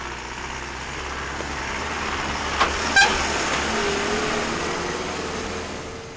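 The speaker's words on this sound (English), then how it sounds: "The workers quickly load the bags onto the truck and transport them to the facility" A truck hauling bags of harvested tea leaves gives a steady engine rumble that swells gently, and a short horn toot sounds around the middle with no talking.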